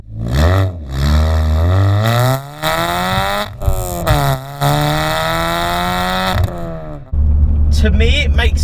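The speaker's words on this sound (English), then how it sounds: "you've got a full decat Miltech exhaust system, which sounds really awesome" A Ford Fiesta Zetec-S with a full decat Miltech exhaust revs hard several times with a loud, raspy exhaust note, rising and falling in pitch, then settles into a rough idle.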